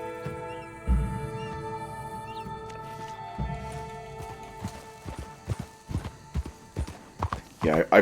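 A slow Shire horse's hooves clip-clop in Red Dead Redemption 2, first sparse and then a steady series of hoof strikes, while someone talks over it and game sounds hum underneath.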